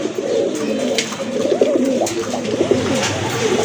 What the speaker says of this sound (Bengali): আরেক জোড়া বোম্বাই কবুতর